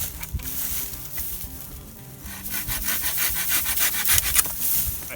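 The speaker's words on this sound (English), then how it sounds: "I'm gonna go ahead and cut a piece out of this just with an inexpensive folding saw that I've got right here." An inexpensive folding saw cuts through a wooden stick with rhythmic rasping back-and-forth strokes. The strokes start slower and then quicken into a brisk, gritty sawing, close up and with no voices.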